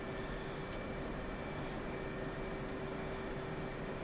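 An F/A-18C jet in the DCS World flight sim taxis and turns on the ground, its engines giving a steady, moderately loud whine and rumble that holds throughout with a constant tonal hum.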